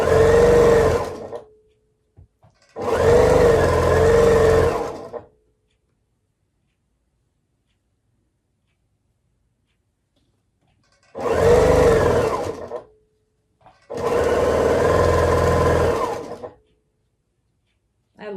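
A sewing machine stitches scrappy quilt nine-patch pieces in four separate runs, each a loud close motor whir lasting a couple of seconds, with long silent gaps between.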